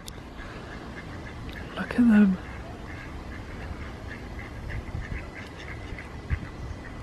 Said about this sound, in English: Little ducks.